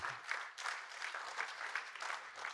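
A conference audience in Lomé applauds, with quiet, distant clapping that pulses irregularly through the whole stretch and no voices over it.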